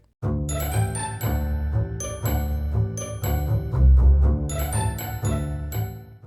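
A notification bell sound effect rings out as a bright, layered run of chiming bell tones in repeated bursts, loud and clear with no voices, sounding like a short jingle.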